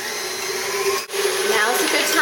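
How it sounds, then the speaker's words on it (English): A KitchenAid stand mixer whirs steadily on high speed while churning cream into butter, a loud continuous motor drone with a brief dip partway through and no talk. "We're going to run the mixer on high until we start to see the buttermilk separate from the butter fat."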